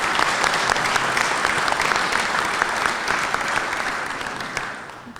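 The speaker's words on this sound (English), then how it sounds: "I would like to give them a round of applause" An audience at a Waterbury city-hall ceremony honouring Kosovar community members gives a sustained round of applause, thick and even clapping from a crowd that slowly tapers off near the end.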